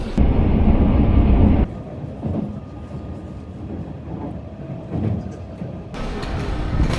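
A train ride in Tokyo: a loud, steady rumble of the rail car that drops to a quieter running hum partway through, then swells again toward the end, with no clear talk.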